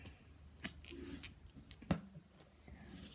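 A few faint, quick snips of scissors cutting a ripped strip of duct tape, close up and quiet, with light handling rustle between cuts.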